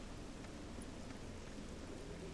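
Steady rain falls in a rusty scrap-strewn forest in the video game Torchlight II, a continuous soft hiss with no distinct drops or voices.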